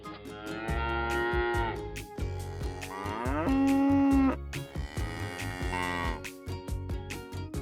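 A cow moos several times, long, loud drawn-out calls separated by short pauses.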